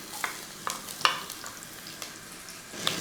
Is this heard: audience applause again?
no